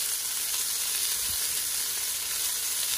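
Beef pieces for a crockpot stew sear in a hot pan, giving a continuous, even, close sizzle and hiss with no talking over it.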